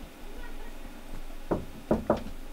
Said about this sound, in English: You were knocking.